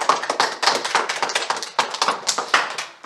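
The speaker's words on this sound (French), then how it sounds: "On peut les applaudir." An audience claps for guests at a French sports show, the fast, dense applause holding steady and close throughout with no voices over it.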